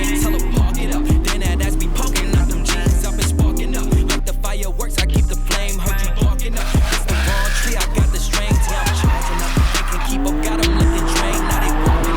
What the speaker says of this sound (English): Can he drift it?